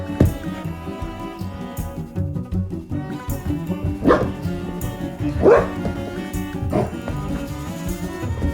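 A Golden Doodle barks and yips in a series of close, loud woofs with irregular spacing, some whimpering between them, and no voices.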